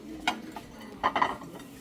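Ceramic plates, some with a worn vintage finish, clink together a few times in a homeware store, producing faint, scattered knocks and chimes with no talking.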